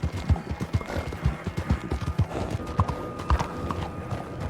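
Horse hooves clip-clop in Red Dead Online, a steady rhythmic trot up close with a few whinnies mixed in, over low game ambience and no talk.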